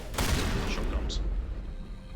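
Gunfire from a firefight in the video game Mass Effect, a burst of heavy shots at the start followed by a booming rumble, with a voice talking over it.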